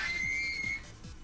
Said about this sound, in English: That's the sound of a Kvalsund crane.